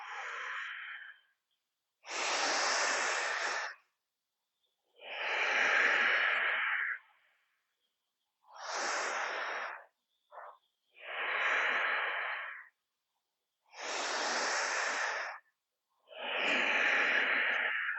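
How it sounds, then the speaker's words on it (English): A yoga instructor's slow, deep breaths, audible inhales and long exhales alternating about every two seconds, close and clear with silent pauses between. "Inhale and exhale."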